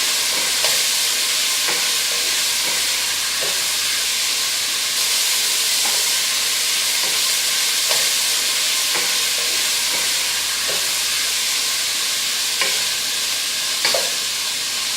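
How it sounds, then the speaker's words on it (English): One pound of ground beef browns in a large pot, giving a steady, loud sizzle and hiss throughout, broken by regular faint scraping ticks from stirring; no voices. "we're going to start by browning the ground beef"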